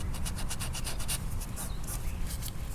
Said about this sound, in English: Got a little bit more sanding to do right here.